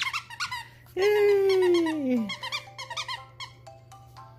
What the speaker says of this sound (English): squirrel squeaky toy